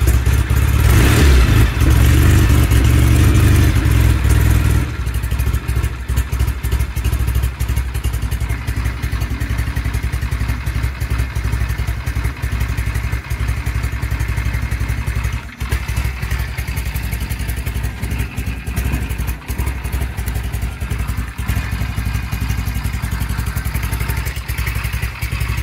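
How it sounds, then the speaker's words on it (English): A cold 1975 Norton Commando motorcycle engine warms up with the choke off, a loud fast-idling rumble at first that settles into a steady, lower clattering idle for the rest, close by and without talk. "Choke off and should come up to idle here in a little bit."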